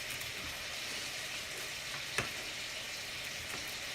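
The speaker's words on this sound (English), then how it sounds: "So just adding a couple of these sausages to the meal here." Sausages sizzle in a frying pan as part of a lunch, a faint, even frying hiss with one sharp click or pop midway and no talking.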